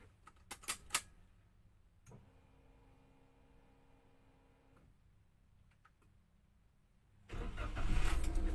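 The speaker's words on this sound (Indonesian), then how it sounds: "Mesin mobil kita nyalakan" A car engine is started for a handbrake adjustment: a few clicks and ticks, a cranking whine from the starter, then the engine catches into a loud, steady idle.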